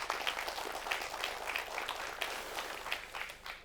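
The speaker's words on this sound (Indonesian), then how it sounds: "Tepuk tangan buat Ibu Hesti." An audience at a religious talk applauding for a woman named Hesti, heard as fairly quiet, steady scattered clapping from a small crowd throughout.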